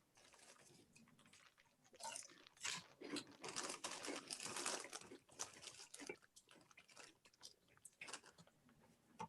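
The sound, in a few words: chewing chocolate toast crunch cereal and popcorn snack mix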